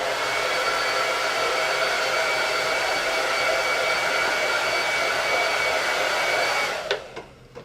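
A hair dryer runs loud and steady on high to dry chalk paste, a continuous whooshing roar that holds for about seven seconds before cutting off with a few brief clicks.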